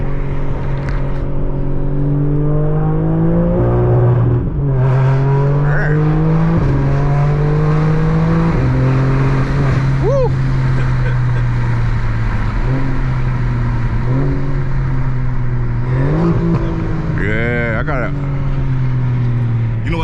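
A loud BMW G82 M4 engine revs hard and climbs in pitch, then stutters against its rev limiter, with people talking over the roar.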